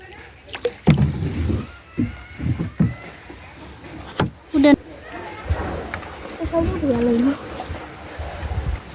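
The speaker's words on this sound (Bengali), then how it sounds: "এই যে আমরা নৌকায় চড়ছি" Water knocks and sloshes against a small boat in uneven bursts while people talk close by.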